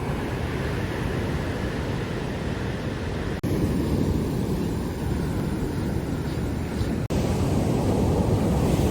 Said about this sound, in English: The ocean is so loud this morning.